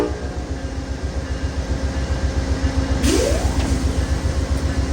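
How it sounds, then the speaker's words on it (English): An Amtrak Crescent train idles with a rumbling diesel throb, and a horn-like tone rises partway through over the steady engine drone. "2 blasts of the horn"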